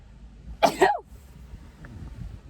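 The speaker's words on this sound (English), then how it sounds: "I'm gonna sneeze" A single sneeze from a woman during a casual chat, a sharp loud burst lasting about half a second, followed by quiet room noise.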